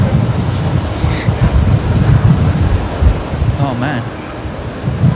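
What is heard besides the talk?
strong wind and rain on microphone outdoors at airport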